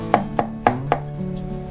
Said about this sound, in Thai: เราจะสับแค่หยาบๆประมาณนี้ก็พอนะคะ